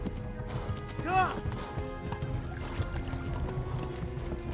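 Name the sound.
horse galloping in video game Kingdom Come: Deliverance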